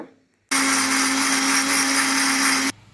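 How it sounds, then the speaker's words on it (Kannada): A kitchen mixer grinder whirs loudly as it grinds turmeric masala with water. The high, steady whine starts abruptly, runs for about two seconds and cuts off just as sharply. "ಇದನ್ನು ನೀರು ಹಾಕ್ಕೊಂಡು ರುಬ್ಕೊಳ್ಳೋಣ."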